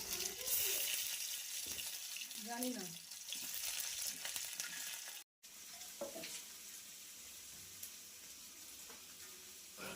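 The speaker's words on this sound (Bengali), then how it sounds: "প্রথমে গরম তেলে শুকনো লঙ্কা এবং রসুন ভেজে একটি পাত্রে তুলে নিতে হবে।" Dried chillies and garlic frying in hot oil in a home kitchen for a pumpkin paste dish, a soft steady sizzle with some stirring and a brief tap-water sound, quiet and close with no talking.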